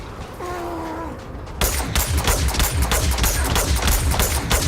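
Rapid gunfire in the space game Starfield, a dense, loud burst of repeated shots starting abruptly partway through after a quieter stretch with a faint tonal beeping.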